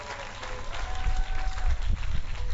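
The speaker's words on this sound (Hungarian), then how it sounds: "Még egy nagy tapsot kérnénk szépen az egész csoportnak." Audience clapping for a children's dance school group at a town festival in Dunaharaszti, a short burst of scattered applause with some background voices.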